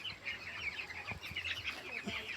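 Broiler chickens on a poultry farm cluck and chirp in a continuous, busy chatter of many birds, moderately faint with soft thumps beneath.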